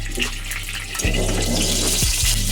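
Fenugreek seeds sizzle in hot white cooking oil in a nonstick wok, giving a steady, close frying hiss with a sharper burst of crackle partway through.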